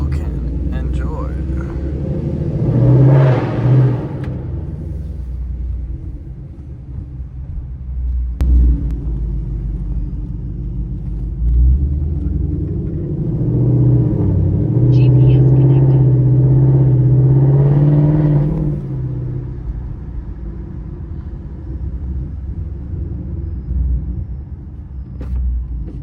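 A loud Ford Mustang 5.0 V8 rumbles close by while driving, its deep exhaust swelling as the engine revs and accelerates, with a voice talking over it at times.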